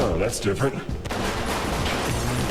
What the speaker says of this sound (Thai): มันยิงมาแบบนี้แล้ว